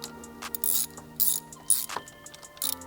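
A 10 mm ratchet loosening the injector bolts on a BMW N55 engine in an F30 335i clicks in several short bursts of pawl ratcheting, spaced through the clip against quiet, with no talking.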